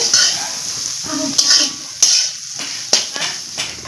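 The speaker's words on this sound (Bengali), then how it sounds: "এখন আমি নাড়াচাড়া করে ভেজে নেব" Chopped vegetables, including cabbage, stir-frying in a pan for chowmein: a soft sizzle beneath repeated clanks and scrapes of a utensil against the pan at an uneven rhythm, close and fairly loud.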